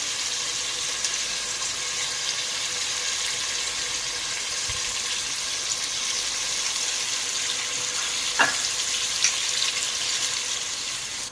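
Tomatoes sizzle in a pot of hot oil while a Sindhi biryani is cooked, giving a steady close frying hiss with a couple of faint clinks partway through and no voices.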